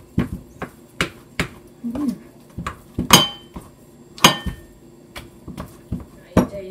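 A utensil clinks and taps against a bowl while Thai hot dog ingredients are mixed with food coloring, in a steady rhythm of sharp, close knocks about every half second, with a brief faint murmur of voice.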